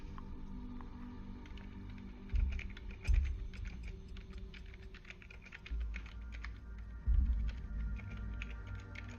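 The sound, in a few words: typing on a computer keyboard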